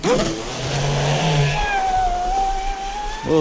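A 2200 kV electric motor on an RC boat whines steadily, loud and close, with a high pitch that slowly shifts, while a person speaks briefly at the start.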